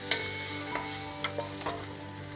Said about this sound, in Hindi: इसको इन वेजिटेबल के साथ अच्छी तरह से कोट कर देना है